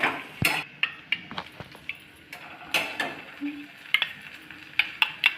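A spatula breaks up potatoes cooking in a pan for a curd-potato curry, making a string of sharp close taps and scrapes against the metal over a faint sizzle, with no talking.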